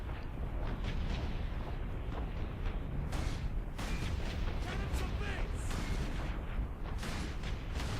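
Dense, heavy gunfire and booming blasts from combat against orcs in the Space Marine video game, loud and continuous with rapid bursts layered over a constant rumble, while a player talks over it.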